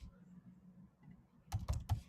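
Quick cluster of keyboard clicks from typing Java code on a computer, a few crisp keystrokes near the end after a quiet stretch, close and alone.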